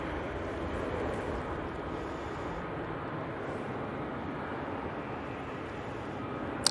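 A Ryanair airliner departs Manchester Airport, a distant, steady broadband rumble that stays low and even throughout.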